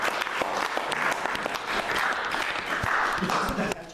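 Audience applause at a book presentation, a steady dense burst of clapping from a crowded room lasting several seconds, with voices mixed in underneath.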